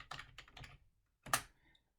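A few quiet computer keyboard keystrokes, a short cluster of taps followed by a pause and one sharper click, close and isolated in a silent room.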